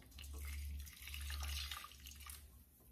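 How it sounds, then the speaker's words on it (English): Hot water is poured into a pot to steam bread dumplings, giving a short, fairly quiet splashing gush in two bursts with a brief pause between them and no talking. "So I'm gonna take two of these, add my hot water."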